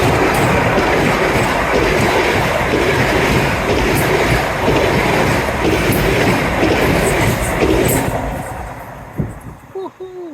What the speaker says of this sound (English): I'll bring you a train.